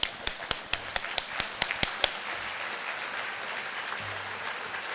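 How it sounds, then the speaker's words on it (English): An audience stands and stamps feet in a steady loud rhythm of about twelve sharp beats, then settles into scattered clapping and room murmur. "would you stand up, stamp your feet, and just clap 12 times?"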